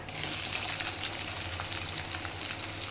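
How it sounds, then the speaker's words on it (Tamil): Onion fries in hot oil with cumin and ajwain, giving a dense, even crackling sizzle close up that holds steady for a few seconds without any talking. "போட்டுட்டு வெங்காயத்தை போட்டுடுங்க"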